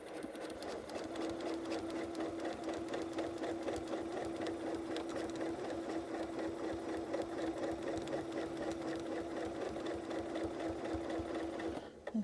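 A sewing machine stitches a quilt, guided along a feather ruler template, in one steady, continuous run at a constant speed that stops abruptly near the end.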